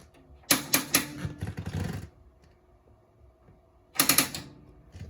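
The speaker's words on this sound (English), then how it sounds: "just hitting that igniter every few seconds" Clicking of the stove igniter on a 2022 Keystone Cougar 29BHS travel trailer while lighting the pilot: two short bursts of rapid mechanical clicks a few seconds apart, close and fairly quiet, with a near-silent pause between them.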